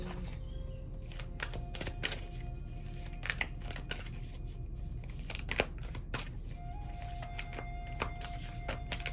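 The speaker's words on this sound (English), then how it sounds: "these do not want to shuffle today" Tarot cards being shuffled over and over, a steady papery riffling with sharper snaps and flutters throughout, up close and fairly quiet, with no talking.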